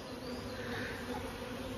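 A steady, dense buzzing of many honey bees on a hive frame with drone brood, close and continuous, with no pauses.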